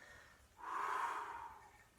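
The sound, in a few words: inhaling breath during an abdominal exercise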